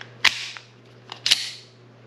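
A Sig Sauer P365 pistol being checked and cycled, giving three sharp metallic clacks of the slide racking, close and crisp against a faint steady electrical hum.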